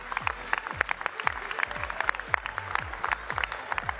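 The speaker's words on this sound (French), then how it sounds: "Un tonnerre d'applaudissements pour Jessica." An audience at a pastry world cup prize ceremony in Europe applauds, with loud clapping under a pulsing beat of booming bass music that repeats in a steady rhythm.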